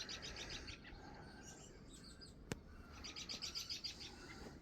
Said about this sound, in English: You can hear the guineas out there out in one of those sheds over there, squawking away.